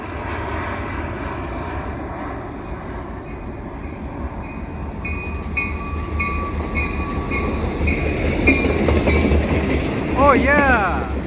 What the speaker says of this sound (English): It's a tanker local! And it's led by a CMQ locomotive, one of the very few remaining.